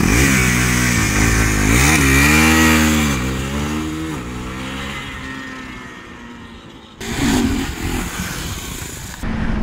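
A lightweight KTM Duke 390 motorcycle revs up loudly with rising and falling harmonic engine tones, then settles and surges again near the end, with no talking.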